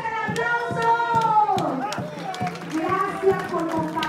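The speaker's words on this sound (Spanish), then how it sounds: "¡Eso, fuerte el aplauso!" Audience at the Chichihualco Tlacololero dance festival clapping in a steady rhythmic beat under someone speaking, with crowd noise around it.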